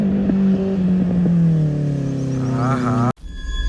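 A superbike engine revving some distance away, a strong rising and falling tonal whine that holds, then cuts off abruptly before faint tones resume.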